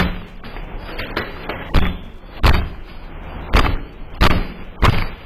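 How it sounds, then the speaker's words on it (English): Heavy blows land on an apartment door in an irregular series of loud thuds and bangs, about seven strong impacts with rattling between them as intruders try to force it open. "they're both very aggressively hitting the door."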